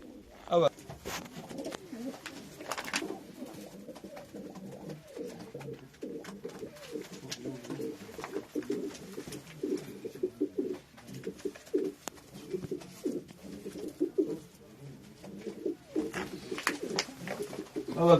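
Show pigeons cooing repeatedly in a loft, soft rolling calls close by and overlapping, with occasional wing flutters and someone talking intermittently over them.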